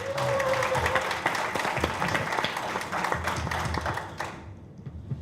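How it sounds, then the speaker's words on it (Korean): Crowd at a Liberty Korea Party political event applauds a lawmaker, a loud dense burst of clapping that fades out abruptly after about four seconds. "큰 박수 한번 보내주시면 좋겠습니다"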